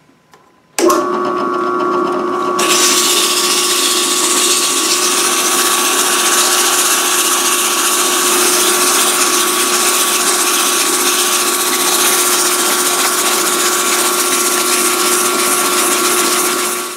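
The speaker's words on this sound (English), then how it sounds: "I'm just going to use sandpaper freewheeling it." A spinning wooden wheel hums and rasps steadily as sandpaper is held against it to round the top and bottom edges, a loud, continuous whir close by after a sudden start.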